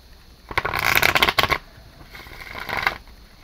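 Rebel deck cards being shuffled in two bursts, a longer riffling flurry followed by a shorter, softer one, close and clear with no talk.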